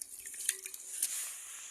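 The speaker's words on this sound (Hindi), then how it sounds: "ऐसे हमने एक हाथ से अपनी ये बाल्टी साफ की है" A bucket left outside and dirtied by evening rain is scrubbed clean by one hand with water, giving faint, scattered wet splashes and drips close by, with no talking.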